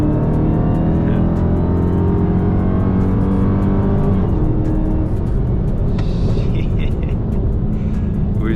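A 2020 Dodge Charger Hellcat widebody accelerates hard from inside the cabin, its supercharged engine rising in a loud, climbing roar and whine through the gears, then settling into a steady drone.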